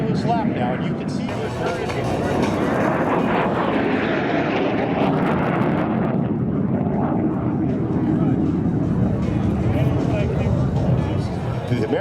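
A fighter aircraft makes a low pass at an airshow in Apple Valley, its engine a loud, continuous roar that holds steady across the whole stretch, with crowd chatter underneath.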